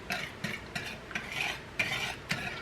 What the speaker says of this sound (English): I'm only gonna do a little bit at a time here, so I'm not trying to whisk it all together